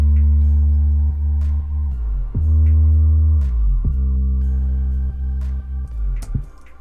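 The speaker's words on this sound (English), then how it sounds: "and then the bass line sounds like this." Synthesized bass line for EDM and hip-hop, loud and deep, with sustained low notes that bend and slide sharply between pitches, each glide dropping or rising in a smooth sweep, played alone with no voices.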